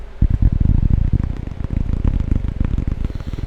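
Fingertips tap on a cork coaster in quick, dense, irregular patters, close and soft like raindrops, with no talking.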